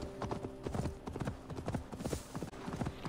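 Horse hooves clip-clop in a steady walking rhythm in the video game Assassin's Creed Valhalla, close and fairly quiet over low ambient background.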